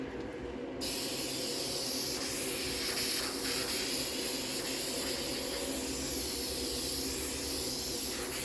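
An aerosol can of spray adhesive hisses continuously as glue is sprayed onto seat covers for a 1973-76 Triumph TR6, one long, close, unbroken spray after a brief quiet start.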